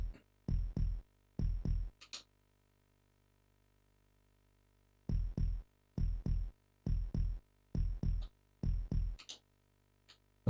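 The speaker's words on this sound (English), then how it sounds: "Unless you can hear the heartbeat go faster, which means we're losing harder, basically" A low, thudding heartbeat sound effect from the strategy game Populous beats in paired pulses, two brief runs of steady beats separated by silence, with a few faint high ticks in between.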